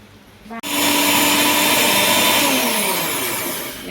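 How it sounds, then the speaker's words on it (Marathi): A mixer grinder whirs on suddenly after a brief quiet moment and runs loud and steady grinding roasted rice, its pitch slowly shifting as it grinds. "मिक्सरमध्ये मस्त असं बारीक करून घ्यायचं आहे"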